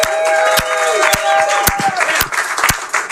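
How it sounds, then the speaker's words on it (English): A crowd at Fieldwork Brewing Company in San Ramon cheers and claps loudly outdoors, a dense burst of applause with sharp individual claps and a rising whistle or whoop, voices mixed into the noise. "Let's hear the crowd that's already here."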